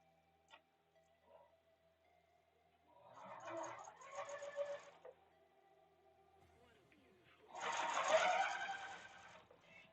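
Sewing machine stitching fabric in two short runs of rapid mechanical whirring, close and moderately loud, separated by quiet pauses with faint handling.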